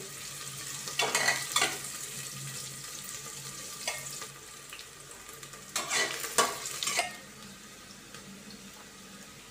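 Chopped onions are stirred in a pan for rice khichdi, with a soft background sizzle broken by a few bursts of spatula scraping and stirring, heard close with no talking.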